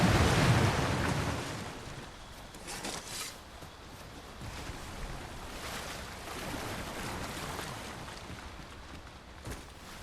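Rushing water in the video game Dragon's Dogma 2 washes an enemy away, opening with a loud surging wash that settles into a continuous rolling roar like surf, with no voices.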